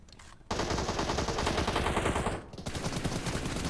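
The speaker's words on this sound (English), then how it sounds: "Penat aku menembak." Automatic gunfire in the mobile battle royale game PUBG Mobile, a loud, rapid continuous burst of shots that pauses briefly and then resumes, close and dense with no speech.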